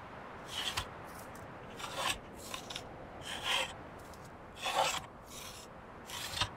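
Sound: crafting planks at carpenter's rack in Medieval Dynasty video game

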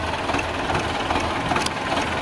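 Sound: tractor engine running

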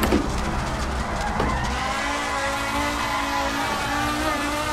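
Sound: Audi Quattro S1 E2 engine revving in Assetto Corsa video game

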